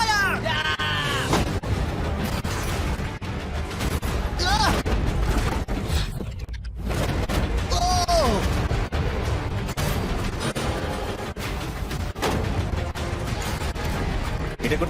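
Gunshots strike a shipping container in a series of loud sharp reports spread across the stretch, mixed with yelling and excited voices talking between and over the shots.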